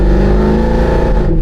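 Mercedes W204 C63 AMG V8 fitted with an X-pipe exhaust revving loudly up close, a thick, raspy sustained roar with deep rumbling harmonics, no voices over it.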